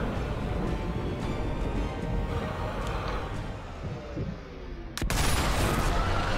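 In the video game Sniper Elite V2 Remastered, a dense, continuous roar of gunfire and blasts fills the whole stretch, ending in a sharp loud explosion near the end.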